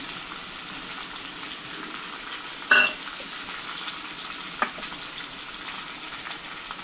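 Chopped onion goes into a hot pan of noodles and is stirred, giving a steady close sizzle with one sharp metallic clink partway through and a faint tap near the end.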